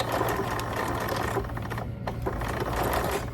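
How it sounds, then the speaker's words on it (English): A sewing machine runs continuously, stitching a quarter-inch seam in slippery fabric for a doll skirt, its fast steady mechanical hum close and loud with no talk. "I'm gonna go ahead and sew it down"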